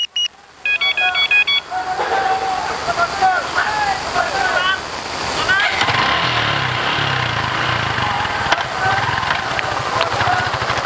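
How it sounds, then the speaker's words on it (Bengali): A motorcycle is started with a remote and no key, with a few short electronic beeps followed by the engine settling into a steady low idle. Someone talks over it throughout. "আমি চাইলে রিমোট দিয়ে দেখেন বাইক কিন্তু ওখানে স্টার্ট হয়ে গেছে"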